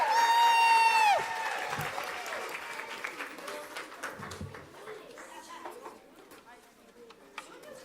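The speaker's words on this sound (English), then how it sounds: "Let's give another round of applause for the strings." An audience at a school board meeting applauds a school strings ensemble, starting under a whistled or cheering note, then settling into a steady spread of clapping hands with some chatter, moderately loud and gradually thinning.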